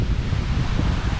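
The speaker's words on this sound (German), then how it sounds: "aber heute ist ein richtig heftiger Wind" Strong wind on the Greek coast at Igoumenitsa, a loud steady rush and buffeting roar, close and unbroken over a short stretch.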